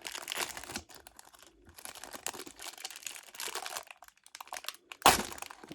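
A Pokémon card pack wrapper gets torn open with close crinkling and rustling plastic, ending in a sharp, loud rip near the end.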